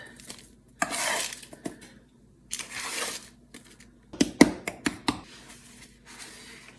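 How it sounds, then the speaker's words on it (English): A spatula scrapes and flips sweet potato crumbles on a baking pan, giving bursts of gritty scraping and several sharp metallic clinks and taps, separated by brief quiet gaps. "I'm just going to take the spatula and give them a flip"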